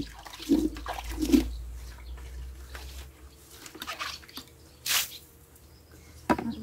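A plastic bucket is rinsed out with water, giving a few sloshing splashes and swishes with squishy drips in between, near and moderately loud, with no talk over it.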